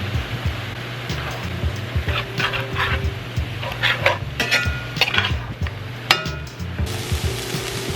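Ground turkey cooking in a pan, with metallic clinks and scrapes of a utensil against cookware over a low sizzle, busy and close, while a dog barks a few times in the background.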